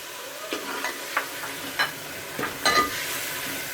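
Dried packet fenugreek leaves stirred into spices frying in a pan for aloo palak, giving soft scraping strokes and a few louder scrapes over a faint, steady sizzle.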